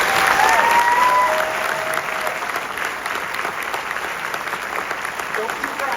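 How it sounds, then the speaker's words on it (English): A large audience breaks into sustained, dense applause for the Disneyland Resort ambassadors at their ceremony, with a brief whistle near the start and the clapping steady to the end. "Let's give them a round of applause."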